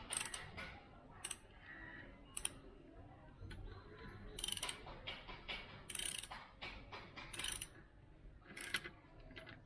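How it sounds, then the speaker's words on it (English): Ratchet wrench clicking as it tightens a 13 mm clamp bolt on a slip-on exhaust for an Interceptor 650 motorcycle, with quiet, irregular bursts of ratcheting spread across the clip and no talking. "So I'll spare me the hard work and I'll clamp it with the ratchet wrench."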